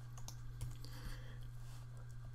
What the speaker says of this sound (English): I'll hit 4 on the keyboard